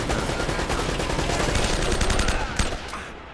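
A turret machine gun hammers away in Uncharted: Drake's Fortune, a continuous loud stream of rapid shots with booming impacts throughout, ending in a sharp crack before fading slightly.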